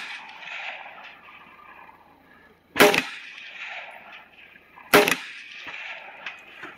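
Two sharp, loud gunshots about two seconds apart in the video game Call of Duty, standing out over a quiet, hissy background.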